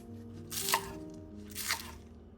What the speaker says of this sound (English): For the green onions, cut them into 1-inch pieces.